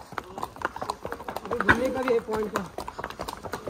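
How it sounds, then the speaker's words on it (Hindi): Horse hooves clip-clop in a steady rhythm during a ride along a trail at Matheran, heard close and under ongoing talk from the riders. "यहाँ पे हम लोग घोड़े पे बैठ करके जा रहे हैं"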